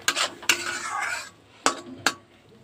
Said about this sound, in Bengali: মশলাটা ভালো করে একটু কষিয়ে নিয়ে তারপরে আমি মটরশুঁটিগুলো দিয়ে দেবো।